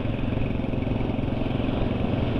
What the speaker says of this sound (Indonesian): Suara mesin masih ada kasarnya sih ya.